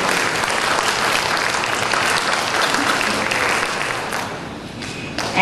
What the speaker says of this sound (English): give a big round of applause to our caterers for a fantastic meal